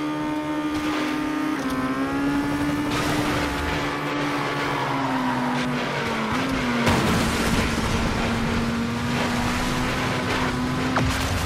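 Race car engine accelerating in the racing game Asphalt 9 Legends, a loud steady high-revving whine whose pitch climbs and holds, with a whooshing burst partway through, continuous and close without speech.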